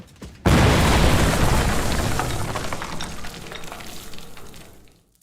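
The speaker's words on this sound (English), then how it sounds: "Damn, that was some bang." A single powerful explosion bangs out suddenly after a short quiet moment, then its broad rumbling roar slowly fades over several seconds until near silence.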